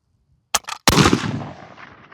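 A Carcano rifle fires surplus ammunition outdoors: a short sharp click-like report, then a loud close gunshot with a long decaying boom, with no talk.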